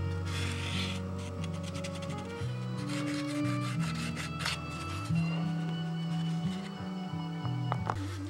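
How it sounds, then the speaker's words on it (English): Steady rubbing and rasping as sandpaper is worked by hand over a wooden fin for a Windy U Master 811 model, continuous strokes over a layer of background music. "Now another thing that the old Bernie Trent sandpaper comes in handy for is right in here."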